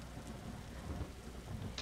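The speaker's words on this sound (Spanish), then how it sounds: "Lo que faltaba, la tormenta." Steady rain hiss with low rumbling thunder fills a stormy scene in the Roblox game RoVille, a soft continuous wash without talk.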